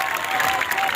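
A festival crowd applauds folk performers at a Jashn-e-Baharan show in Sindh, a brief, dense wash of clapping with some cheering, loud and close.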